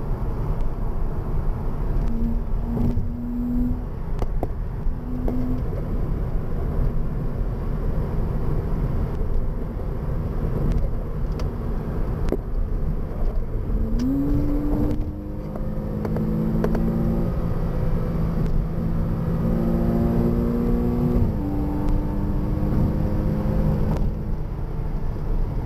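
A Porsche car driving on a Sunday among villagers gives a steady, close engine drone throughout, with several gliding tonal pitch changes as it revs and shifts, and no talking.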